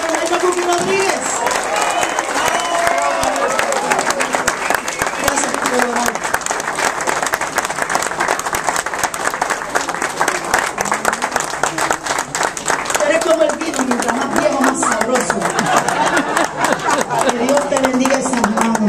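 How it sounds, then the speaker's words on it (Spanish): A live concert audience applauds Maestro Cuqui Rodríguez with loud, sustained clapping and some cheering, while someone speaks over the crowd noise. "Ese aplauso para Maestro Cuqui Rodríguez."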